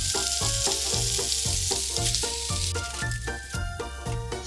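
Zucchini sprinkled with grated cheese frying in a small pan, a dense steady sizzle close by, against a rhythmic background beat.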